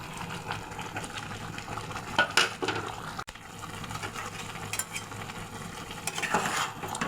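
Fried vegetables are stirred into salted, lightly sugared fried rice in a pan, with a soft sizzle under repeated spatula scrapes and clinks, a louder burst of mixing midway and another near the end.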